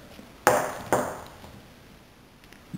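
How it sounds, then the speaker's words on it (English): Aluminum snap swivel hooks on a bag strap clink together: two bright metallic pings in quick succession ring out and fade in a quiet room, followed by a faint third tap. "these snap swivels. They'll start making a lot of noise."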